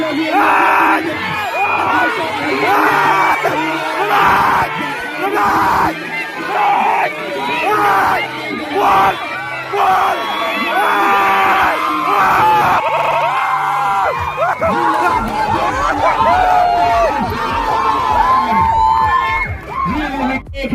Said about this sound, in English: the English department, another cheer for the English department